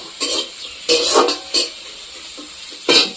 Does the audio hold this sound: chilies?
yes